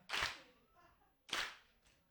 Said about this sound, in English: Can I get like a clap going?